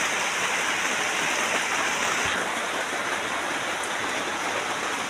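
Rain falling outside, a steady, dense hiss and patter that runs unbroken and evenly loud throughout, with no voices over it.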